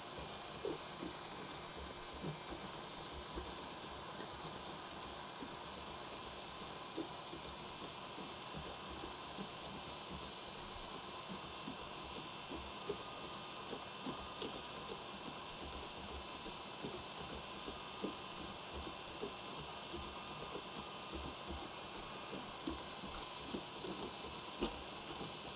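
A stand mixer whips Italian meringue buttercream at a higher speed, giving a steady, even whirring hum with a bright hiss that runs unchanged for the whole stretch.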